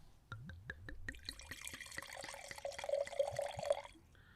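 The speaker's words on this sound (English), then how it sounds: "That was my first pour here on the podcast as a co-host." Wine pours into a glass: a few glugs from the bottle, then a continuous rising gurgle as the glass fills, close and clear before stopping abruptly.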